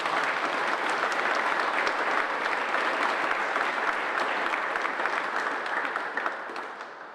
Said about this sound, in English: give a big round of applause for the club here and all the work that they did